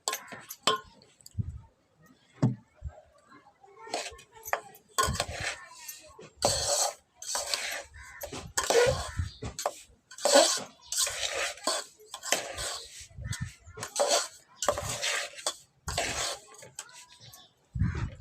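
Utensils clink and scrape against a vessel in intermittent bursts as a cooked mixture is stirred into grated jackfruit pulp for ladoos, with voices talking over the clatter.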